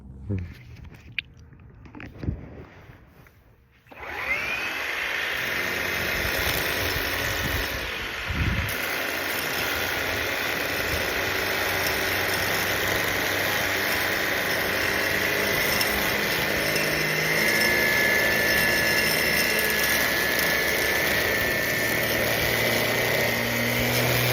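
An EGO battery-powered edger cutting a lawn edge along metal trimming gives a steady, close whirring drone that starts abruptly after a few seconds of quieter outdoor noise and runs continuously to the end.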